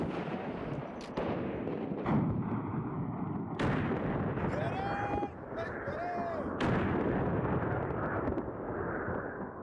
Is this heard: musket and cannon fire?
yes